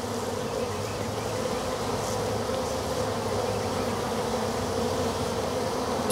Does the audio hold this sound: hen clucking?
no